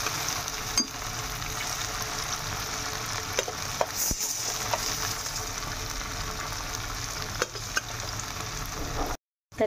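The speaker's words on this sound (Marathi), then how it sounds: "तर इथे फ्राय करण्यासाठी आपण टाकून दिलेलं आहे हे." Food fries in hot oil in a home kitchen, a continuous close sizzle and crackle with occasional sharp pops and clicks, steady throughout, then a brief cut to silence near the end.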